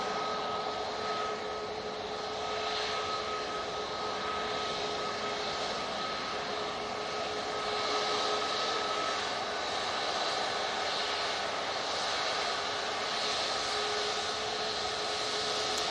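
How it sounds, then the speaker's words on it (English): A TUI Boeing 787 Dreamliner at Manchester Airport, its jet engines producing a steady, loud, broad roar with a faint whine that persists evenly throughout. "Big Dreamliner."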